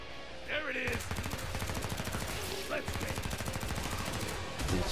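Rapid automatic gunfire from a first-person shooter game rattles on almost without pause, loud and dense, with a brief break midway and faint voices underneath.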